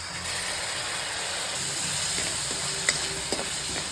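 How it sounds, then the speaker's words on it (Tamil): Tomatoes sauté in a pan for raw banana kurma, giving a steady close sizzle and hiss, with a couple of light spatula scrapes and taps near the end. "இப்போது தக்காளியை இதில் சேர்த்து வதக்கணும்"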